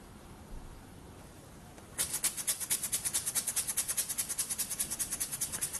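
After a quiet hiss, a small model steam engine starts up with rapid, regular chuffing puffs that continue steadily to the end.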